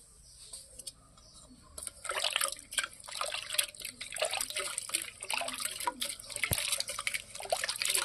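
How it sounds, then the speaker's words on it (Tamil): Soaked tamarind is squeezed and mashed by hand in a bowl of water while making rasam, giving soft, irregular squelching and dripping sounds with a faint low hum underneath. "புளி நல்லா ஊறிடுச்சுங்க, நம்ம கரைச்சிக்கலாம்"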